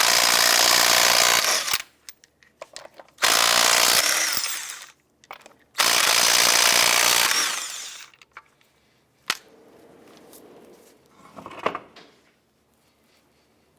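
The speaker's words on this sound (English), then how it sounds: "Using a 19mm socket, we'll go ahead and remove the lug nuts" Power tool with a 19mm socket spinning off lug nuts on a 2005-2007 Jeep Liberty, three loud sustained bursts of whirring and rattling separated by short pauses, then quieter clanks and handling noises.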